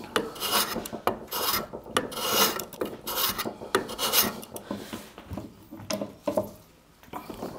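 Hand plane shaving across the grain of a wooden board, a series of close rasping strokes working part way across from alternating directions, with short gaps between passes.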